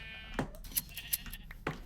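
Sheep in Minecraft bleating, a few short nasal bleats spaced out over a moment, close and clear, with faint clicks between them.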